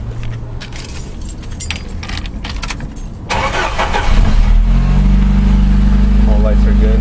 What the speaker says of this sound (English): Just turn the car on,